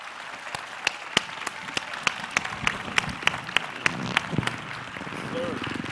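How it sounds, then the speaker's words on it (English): Audience applause at a business summit fireside chat, a steady wash of clapping with sharper individual claps standing out in a loose rhythm, moderately close, with faint voices underneath. "Let's give him a round of applause."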